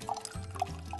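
Clean water trickles down from a gravity water filter in a brief, faint stream, a few light drips and gurgles rising over a low steady flow.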